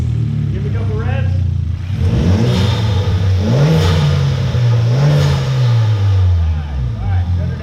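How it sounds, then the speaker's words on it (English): A turbocharged car engine with a factory bypass valve and an open air filter revs several times, pitch sweeping up and falling back in loud, close bursts over a running idle, with voices talking over it. "Give it a couple revs."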